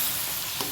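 Duck meat frying with salt and turmeric, stirred in a pan; a brief soft sizzle with a light scrape of stirring, close and fairly quiet.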